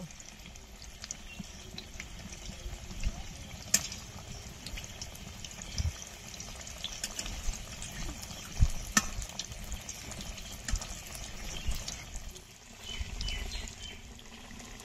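Battered pieces fry one after another in hot oil in a home kitchen wok, a faint, steady sizzle with occasional scrapes and small pops.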